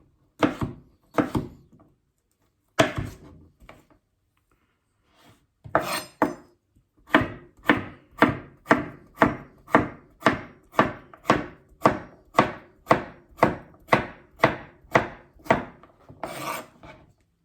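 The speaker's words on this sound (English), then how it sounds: "then just slice your cucumber up" A knife slicing cucumber on a cutting board: a few separate cuts, a pause, then a fast, even run of about fifteen crisp chops, close and loud.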